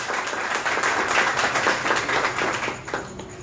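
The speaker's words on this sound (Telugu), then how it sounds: "చప్పట్లు కొట్టండి ఒకసారి ఏసైకి. Clap your hands." Congregation at a Sunday church worship service clapping hands together, a dense steady wash of many claps lasting several seconds before thinning out at the end.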